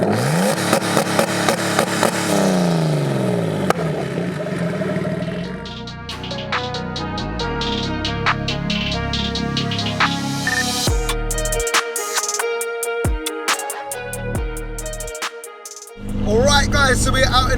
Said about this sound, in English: the revving, it sounds absolutely crazy. You can hear the turbo, surprisingly.